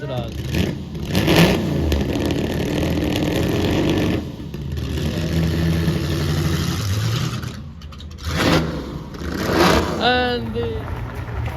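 A Ferrari 250 series car revs its engine at a Concours d'Elegance at Hampton Court Palace, rising in pitch near the end over crowd noise while a commentator talks throughout.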